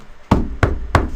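Three firm knocks land on a front door at a steady, even pace. Each one is loud and close, with a dull wooden thud, and no voices are present.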